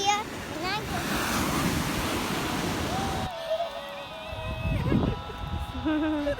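Ocean surf rolls in at Jeongmun Beach on Jeju, a surfing spot, with gusting wind buffeting the microphone; the wash is steady before thinning partway through, and faint voices come and go beneath it.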